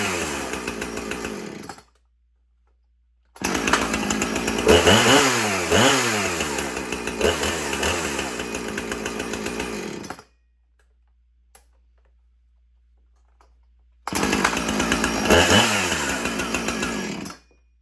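A Husqvarna chainsaw, such as a 455 Rancher or 450, runs in two loud bursts, revving up and down with a rough, buzzing two-stroke tone, separated by silence and a faint tick.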